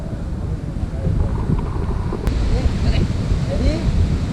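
Ocean waves and wind at a surf spot in Bali, a loud continuous wash of water with gusty wind buffeting the microphone throughout.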